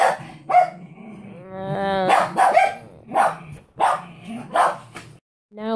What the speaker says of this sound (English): Vinny, are you barking?